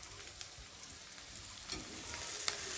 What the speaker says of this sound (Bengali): দেখো এখন আমি ভেন্ডিগুলো ঢেলে দেবো।